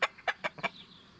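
A chicken with a drooping comb gives five quick, close clucks in a short burst, followed by a faint trailing chirp.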